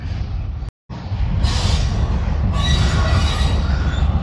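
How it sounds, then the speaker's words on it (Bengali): Heavy rail wagons, including oil tanker cars, rumble and grind nearby during shunting and coupling, with metallic squealing of wheels and clanking as cars move slowly, broken by one brief cut. "আবার আগের যে তেলের ট্যাঙ্কারের গাড়ি ওইখানের সাথে আবার সংযুক্ত হচ্ছে"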